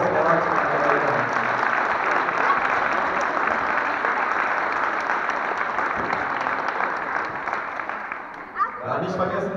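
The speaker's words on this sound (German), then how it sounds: "Das ist mal einen großen Applaus." Audience applause at a youth football tournament ceremony in Görlitz, a long, steady round of clapping from a crowd that fades slightly toward the end, with a voice starting to speak at the close.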